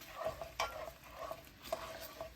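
A spoon stirs melting sugar syrup in a pan for caramel popcorn, giving a few soft scraping strokes over a faint sizzle, close but quiet.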